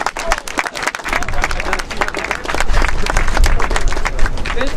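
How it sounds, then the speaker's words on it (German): Loud, dense crowd applause for Edward Snowden at a protest rally, with rapid overlapping claps that swell and grow stronger toward the end. "Hier einen kleinen Applaus nochmal für diesen mutigen Mann"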